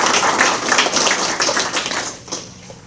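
An audience at a roundtable on nonviolence applauds, with loud, dense clapping close by that holds steady for a few seconds and then thins out slightly.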